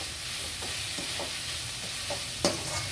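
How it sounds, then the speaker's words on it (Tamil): Grated carrot stirred in a hot frying pan, with a soft continuous sizzle broken by a few scraping strokes of a spoon and one sharp clack near the end. "துருவி வச்ச கேரட் சேர்த்துக்கலாங்க."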